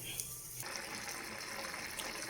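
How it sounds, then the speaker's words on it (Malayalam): Water gushes steadily, poured into a pot of ivy gourd and lentil masala, a continuous rushing wash that starts abruptly after a brief quieter moment. "ഇളക്കി നോക്കിയ ശേഷം നമുക്ക് വെള്ളം ഒഴിക്കാം"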